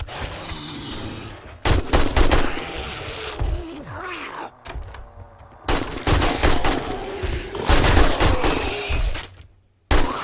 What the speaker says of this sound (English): I'm just messing them up with a machine gun